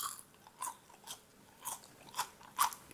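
Several crisp crunchy bites into crispy fried tofu, spaced out with short pauses, close and fairly quiet, the last crunch the sharpest.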